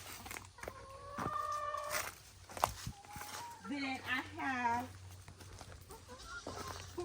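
Backyard hens cluck and squawk in short bursts, with one louder drawn-out call standing out, while a person talks nearby.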